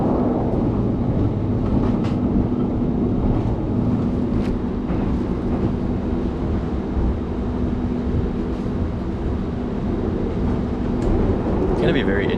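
A luxury train rolls from Yogyakarta to Jakarta, Indonesia with a constant low rumble and hum inside the carriage, a few faint clicks and knocks scattered on top.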